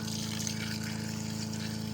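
Natural spring water forced through a pipe under pressure, a steady continuous rushing flow over a low, even hum, holding constant throughout.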